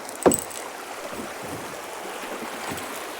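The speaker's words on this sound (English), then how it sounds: "We're gonna paddle a good bit and get started here." A kayak paddles along a small, sheltered creek. A sharp paddle splash comes first, followed by soft, steady dipping and trickling water with light wind, all close and fairly quiet.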